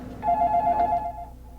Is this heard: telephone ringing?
yes